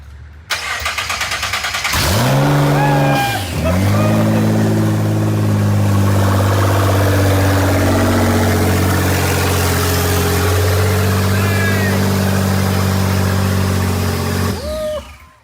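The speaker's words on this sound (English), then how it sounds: "Quick little start with no headers" A 2024 Nissan GT-R being rebuilt after a wreck fires up for the first time without downpipes: a brief crank, then a loud catch and a steady raw idle that runs for about twelve seconds before cutting off.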